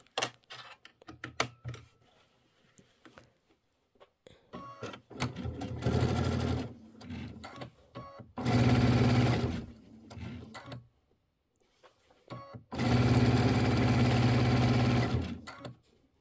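A domestic sewing machine set to a 2.5 stitch length with a quarter-inch foot stitches a mini quilt, running in several bursts of rapid mechanical whirring and clatter, the longer runs loud and close, separated by pauses with faint handling noises.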